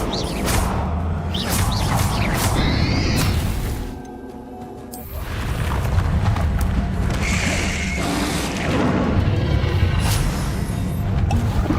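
Bombarda spell blasts in Hogwarts Legacy, heavy booms and crashes with whooshes and mechanical rattles amid ongoing combat, dipping briefly into a quieter lull before the loud clashing resumes.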